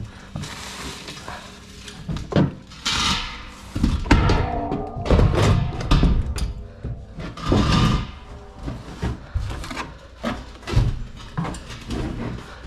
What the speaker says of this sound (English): I gotta get my tank over here, get it in here.